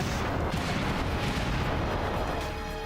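A volley of six rockets launches in the Front Mission 2 mecha strategy game, a loud, dense, continuous roar of blasts and rumbling booms filling the whole moment with no voice over it.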